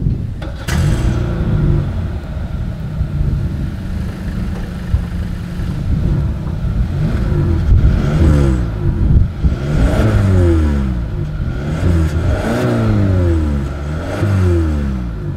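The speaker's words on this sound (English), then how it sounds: "As always, here is that exhaust clip." A 2024 Hyundai Sonata N-Line's dual exhaust revs several times over a steady idle, each blip rising and falling in pitch, loud and close with no talking.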